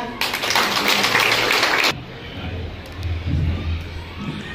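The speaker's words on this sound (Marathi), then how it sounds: "जोरदार टाळ्या." Loud, dense applause and cheering from an audience at a Buddhist vihara renovation inauguration ceremony, a broad clapping wash for about two seconds that then drops to a quieter crowd murmur.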